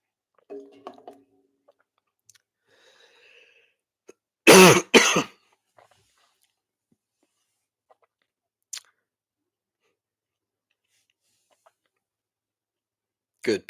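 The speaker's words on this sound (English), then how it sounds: "I cannot get over this cough" A man coughs in one short, close burst of two or three rough hacks, with faint scattered clicks and long quiet stretches before and after.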